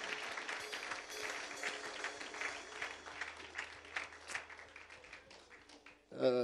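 A church congregation claps steadily together during a lively worship service, a continuous patter of applause with voices faintly beneath.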